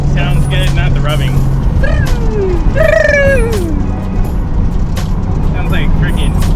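A Nissan 240SX drives along with loud, steady road and engine roar and a groaning, warbling moan that rises and falls like a Chewbacca growl, while a person talks over it.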